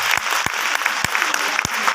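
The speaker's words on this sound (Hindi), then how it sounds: "मैं चाहूंगा एक बार ताली बजना चाहिए" An audience clapping together at a talk on direct selling, a dense, steady burst of applause filling the room, with a few sharper claps standing out.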